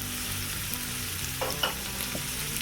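Garlic sizzles steadily in a hot pan for a country-style dish, a dense continuous crackle with a couple of brief utensil clinks partway through.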